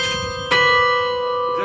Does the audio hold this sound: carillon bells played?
yes